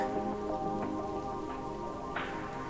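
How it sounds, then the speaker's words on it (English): Rain falls in a visual novel video game as a continuous soft patter on surfaces with scattered drip taps, moderately quiet, under a sustained tonal music background, with no speech. "This is why I hate rain."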